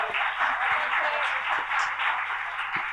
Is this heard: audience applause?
yes